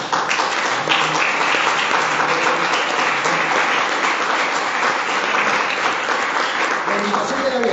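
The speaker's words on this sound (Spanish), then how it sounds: "Démosle un fuerte aplauso a nuestro Dios." A church congregation gives loud, dense applause that stays sustained and even throughout, with voices mixed into the clapping.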